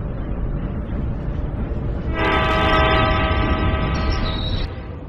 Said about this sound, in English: Train is arriving at platform number 2.